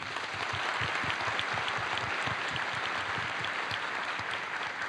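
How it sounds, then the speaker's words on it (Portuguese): Steady, sustained applause fills a graduation ceremony for a physical education and sports school, many hands clapping together at close range with no break. "uma salva de palmas."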